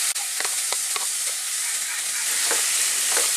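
Vegetables with cabbage and capsicum sizzle steadily in hot oil for fried rice, a bright continuous hiss broken by soft scraping stir strokes, with no talking.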